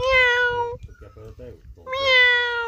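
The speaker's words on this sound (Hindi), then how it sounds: "ओहो, नींद खराब कर दी मैंने बिल्ली की।" A cat woken from sleep meows twice, loud and close, with drawn-out tonal calls before and after a short stretch of quiet speech.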